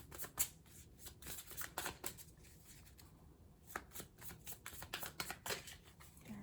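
Tarot cards being shuffled by hand: soft, papery riffles and flicks in irregular bursts, close and quiet, with no one talking.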